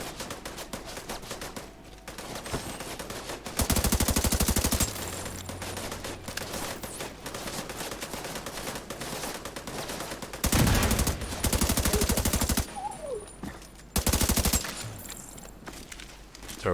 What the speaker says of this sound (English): Why are you shooting at me, Focus?